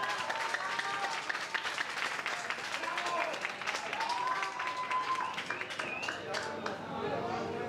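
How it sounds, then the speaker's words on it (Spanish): An audience at a gay showbiz-themed drag duo competition claps and cheers steadily at moderate distance, with voices and shouts mixed in throughout. "Aplausos para Jennifer Carter y Jennifer O'Ryan"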